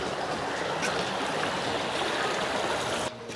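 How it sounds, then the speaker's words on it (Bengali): A waterfall stream at Königssee lake in Germany rushes in a steady, loud broadband roar that fills the whole clip before briefly dipping at the end. "দেখছেন পানির সাউন্ড কত সুদিং"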